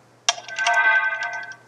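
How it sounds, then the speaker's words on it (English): A phone ringtone chimes nearby, a bright melodic tone that starts abruptly and rings steadily for about a second and a half over a quiet background. "And that was my phone."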